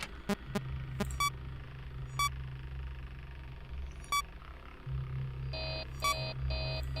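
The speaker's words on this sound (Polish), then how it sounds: "Czemu jest taki alarm przy wentylacji?" In Five Nights at Freddy's 3, a ventilation error alarm sounds as sharp electronic beeps, some single and some in quick stacked bursts, over a low steady drone. A faster, harsher run of beeps comes near the end.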